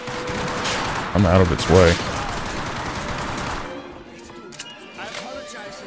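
An MG42 machine gun firing in the video game Hour of Victory: a dense, rapid rattle of shots runs for the first few seconds, then fades to quieter game noise, with someone talking over it.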